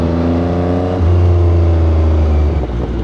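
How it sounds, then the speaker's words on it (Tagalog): A steady, loud engine drone rises in pitch after about a second, heard in heavy Friday road traffic around Commonwealth, Quezon City, from a 2023 Yamaha XSR900 delivery ride. "Kasi naman napaka-traffic ngayon"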